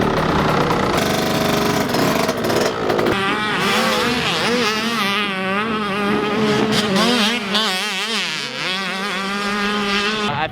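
Motocross dirt bike engines revving loud and close on practice sight laps at a race-day track, with several buzzing two-stroke notes rising and falling in overlapping waves as bikes accelerate and shift.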